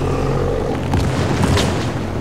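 A grenade detonates in the Helldivers video game, a deep boom with a crackling tail that rises around the midpoint over a steady, dense rumble of combat noise.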